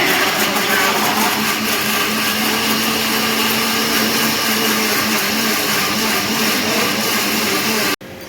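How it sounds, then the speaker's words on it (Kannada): A mixer grinder runs steadily at close range for about eight seconds, giving a loud, even whirring drone that cuts off abruptly near the end. "ಮಿಕ್ಸಿ"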